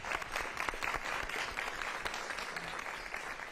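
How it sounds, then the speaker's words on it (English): Warm applause from a room of people at a legislative delegation meeting, with close, distinct claps over a steady bed of clapping that holds throughout. "Please give her a round of applause."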